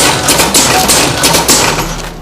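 A small powder sachet packing machine for coffee, sugar and stick packets starts up, making a loud, rapid mechanical clatter of repeated knocks that slows and fades toward the end.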